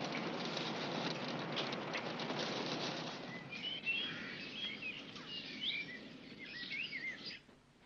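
In a 1963 Italian gothic horror film, rain falls as a dense, steady hiss. It fades after a few seconds, leaving faint bird chirps over a quiet background, with no voices.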